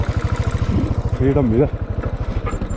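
A motorcycle engine thumps in a fast, even pulse while the bike is ridden near Thimmapan Betta outside Bengaluru, loud and close, with someone talking over it briefly.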